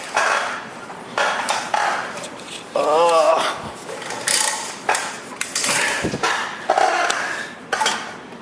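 A Blair double-sided spot weld cutter drills out spot welds on a Honda Accord radiator support, giving a steady grinding, chattering metal whir with a brief squealing tone partway through and a few short pauses.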